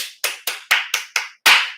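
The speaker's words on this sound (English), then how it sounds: "So let's all clap, because that is progress." Seven sharp hand claps, close and distinct, arriving in a steady rhythm with short gaps between them and a slightly louder final clap.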